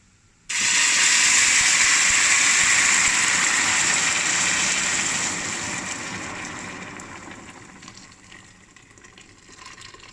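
Hot water poured steadily into a cooking pot to make rice, a loud sustained gushing stream that starts abruptly, holds strong for several seconds, then gradually thins and softens as the pour tapers off.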